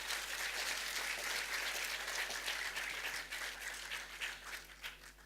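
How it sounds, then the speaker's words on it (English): A conference audience applauds steadily at a regional gathering, dense sustained clapping that stays loud and even before thinning slightly toward the end. "big clap to all those who came out of our region"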